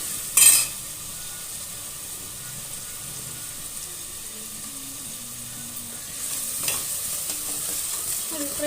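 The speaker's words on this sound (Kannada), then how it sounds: "ಒಂದು ಫ್ರೈ ಆಗಲಿ ಈರುಳ್ಳಿ" Onions fry in a pan with clove and garlic for a sprouted green gram sambar, giving a low, steady sizzle. A sharp stirring clatter comes near the start and a softer one later, with no talking.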